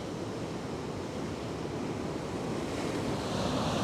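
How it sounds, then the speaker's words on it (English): Heavy ocean surf breaks on a shallow shore, a dense continuous roar of crashing water mixed with wind buffeting the microphone, steady and loud throughout. "Look at those massive waves."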